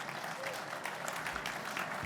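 Audience at an annual association dinner applauding steadily, a dense even wash of many hands clapping in a hall.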